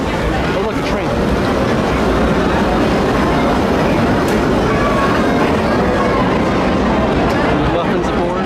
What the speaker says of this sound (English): Oh, look, a train.